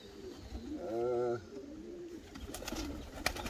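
Pigeons coo inside a racing-pigeon loft, with one soft rolling coo rising near the start over a quiet room hum, then light rustling and a few faint clicks.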